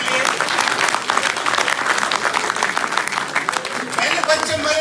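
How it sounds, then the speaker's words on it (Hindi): Loud, sustained applause from a crowd, dense clapping continuing steadily throughout with a few voices mixed in. "जोरदार तालियां सर के लिए।"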